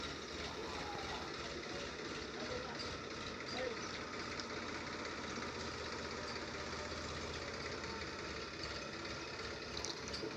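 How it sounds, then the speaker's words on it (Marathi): Tractor driven on a farm, a low steady engine drone that stays even and fairly faint for the whole stretch, with people talking over it. "कसा ट्रॅक्टर चालवतो आहे."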